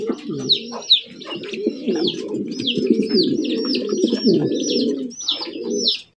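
Giribaz pigeons at a farm coo in low, rolling, overlapping calls, with repeated higher chirps above, close and continuous until a sudden stop.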